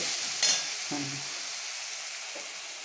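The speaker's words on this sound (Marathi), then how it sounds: "तर आता मी हा मसाला चांगला परतून घेते" Indori masala paste frying in a pan: a steady, close sizzling hiss runs throughout, with a couple of faint clinks and scrapes from stirring.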